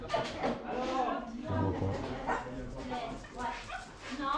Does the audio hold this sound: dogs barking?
yes